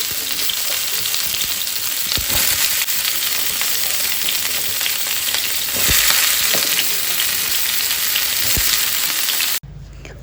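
Pumpkin and potato curry fries in a little oil with a steady, loud sizzle, broken by a few sharp stirring knocks before cutting off abruptly near the end.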